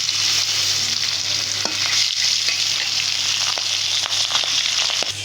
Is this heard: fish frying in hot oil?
yes